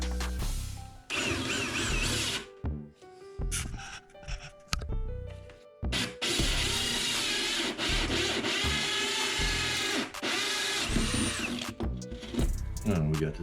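A power drill bores holes through a cabinet panel for IKEA MittLED round LED lights, loud sustained whirring bursts with brief pauses between, close up.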